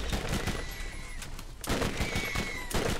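A gun fired in the Borderlands video game, letting off dense bursts of rapid shots that rise, dip around the middle and come back loud, with no talking over them.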